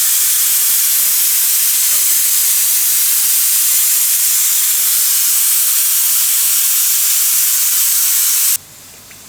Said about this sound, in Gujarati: આને તળી લેવું આપણે.